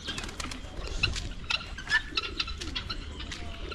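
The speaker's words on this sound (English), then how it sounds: "And I also have the pigeons." Pigeons coo in short, soft, repeated calls at a farm where maize is set out to dry. Faint chirps and a brief flutter of wings sit over a low rustling background, and no one speaks.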